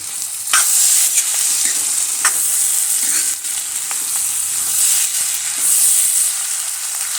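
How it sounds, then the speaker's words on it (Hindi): Green chilli and coriander are stirred into cooking dal, producing a bright steady sizzle with occasional spoon knocks and scrapes against the pot. "अब यहाँ पे जो हरी मिर्च काटी थी ना वो ऐड कर देनी है, और थोड़ा सा डाल देंगे हरा धनिया, और इसको मिक्स करेंगे"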